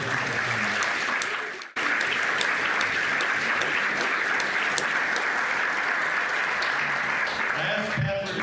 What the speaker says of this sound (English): can you give a big round of applause to Catherine?